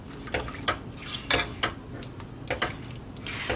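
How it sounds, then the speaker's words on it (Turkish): A spoon stirring melting chocolate into cream in a pot off the heat, with intermittent close scrapes and clinks against the pot sides in an irregular rhythm, no talking. "Çikolatalar eriyinceye kadar sürekli karıştırıyoruz."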